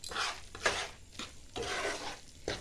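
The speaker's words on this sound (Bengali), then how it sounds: "বন্ধ করে এইটা এভাবে নাড়াতে হবে একটু" A spoon scrapes and stirs thick besan laddu mixture in a pan off the heat, producing repeated close, rhythmic strokes in short bursts with no talking.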